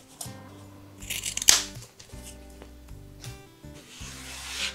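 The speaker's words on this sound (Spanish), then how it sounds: "Cortamos las esquinas" Scissors snip through the corners of a fabric pouch being sewn, making a few close, crisp cuts and light rustling of cloth, with one sharper snip standing out amid quieter handling.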